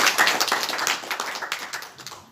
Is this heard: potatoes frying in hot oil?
no